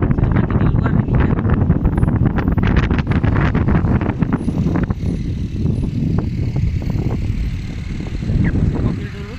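Strong, gusty wind during a dust storm in Riyadh buffets the microphone in a loud, continuous roar with rough low-end rumble and bursts throughout, easing slightly midway before surging again.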